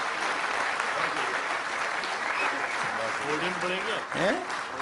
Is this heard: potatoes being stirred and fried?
no